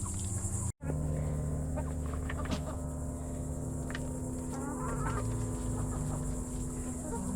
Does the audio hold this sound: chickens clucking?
yes